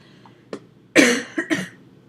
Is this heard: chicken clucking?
no